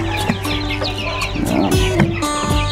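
Chickens in a brooder pen cluck and chatter in quick overlapping bursts, with a few louder squawks, close by and without talk.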